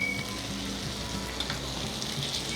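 Ghee roast anjal fish sizzling steadily in a hot pan as it is turned over, a dense close frying hiss with faint scraping, no voices.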